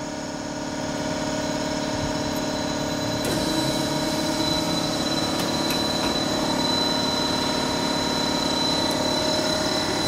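A rubber mixing mill with twin-motor upper dough transfer rollers and hydraulic roll gap adjustment starts up and settles into a loud, steady mechanical drone with a constant whine and occasional faint clicks.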